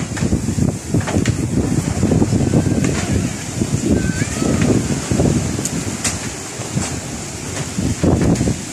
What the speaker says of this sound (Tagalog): Ganito pa kalakas yung hangin.